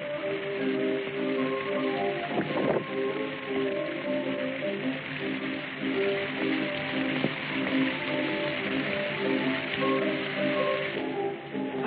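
Heavy pouring rain in a 1956 film scene, a steady dense hiss of falling water on surfaces at moderate level, with faint scattered background sounds and no clear talk.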